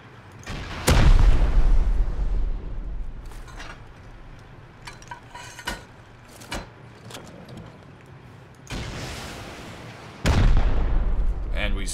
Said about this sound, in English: I think we're gonna hit it straight with a rocket if we can.